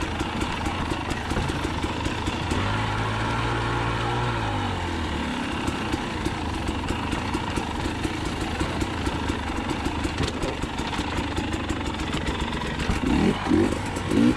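A 2020 KTM 300xc TPI two-stroke dirt bike engine buzzes continuously while being ridden on a trail at dusk, with one rising-and-falling rev in the middle and rough, bumpy mechanical clatter throughout.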